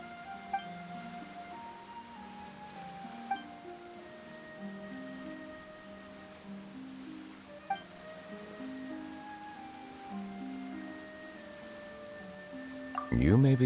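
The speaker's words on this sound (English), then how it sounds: "Why is it raining all of a sudden?" Rain falls in the fantasy game Genshin Impact, a steady soft patter under gentle melodic game music, with a louder burst at the very end.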